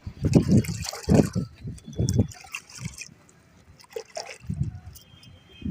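Liquid waterproofing oil is poured and mixed into a bucket of water for rooftop cooling paint, giving bursts of splashing, trickling and sloshing in uneven pulses, close by and fairly loud, with gaps between.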